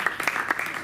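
Audience applause at the US Ponterio football club presentation, a brief burst of scattered clapping from a crowd, mixed with faint voices.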